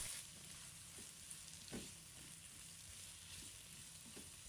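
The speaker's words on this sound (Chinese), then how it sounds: "炒好后，再把牛肉加进来，翻炒均匀，让食材都混合在一起。" Beef stir-frying in a wok gives a steady, faint sizzle with occasional soft scrapes and clinks of the spatula turning the meat, continuous and close, with no voices.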